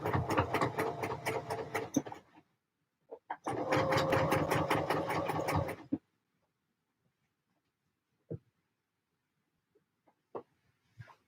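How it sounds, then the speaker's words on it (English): Sewing machine stitching in the ditch, two close bursts of rapid, regular mechanical stitching of about two seconds each, then near silence broken by a few faint clicks. "put a little bit of tension on both sides as you sew to help you actually stay in the ditch."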